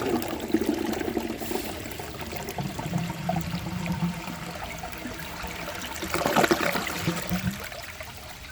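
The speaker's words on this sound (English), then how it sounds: "So let's give this a flush and see how it does on tests." A 1990 Universal-Rundle Atlas toilet with a standard flapper flushes, water rushing and gurgling through the bowl at close range, shifting in tone toward the end as the siphon weakens.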